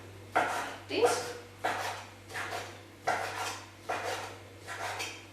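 Knife chopping chicken thigh into small pieces on a board for Thai laab gai, about seven separate sharp, even cuts spaced roughly half a second apart, close and fairly loud, with a steady low hum underneath.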